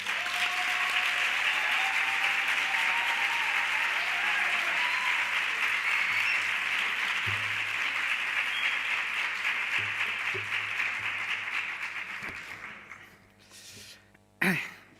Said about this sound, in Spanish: Un fuerte aplauso para el profesor Joaquín Urías Martínez.